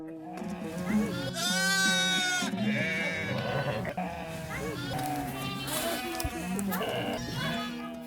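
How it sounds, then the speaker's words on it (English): Sheep and goats bleat repeatedly at a spring birthing-season camp during an all-women nomadic migration in the Altai, overlapping calls near and far in a busy flock, with speech also present. "Spring is a birth-giving season for the sheep and goats."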